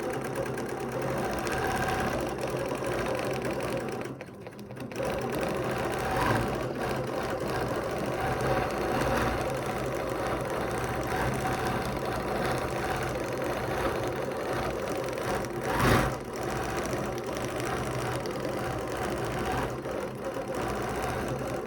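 A sewing machine quilts a fabric panel with a continuous fast mechanical whir, steady throughout with only a brief drop in level early on.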